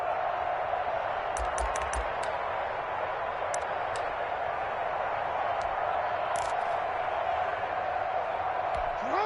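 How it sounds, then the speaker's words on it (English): Stadium crowd in a football video game, a steady roar of cheering with scattered whoops and claps, sustained and even throughout, at moderate distance. "And this crowd into it early."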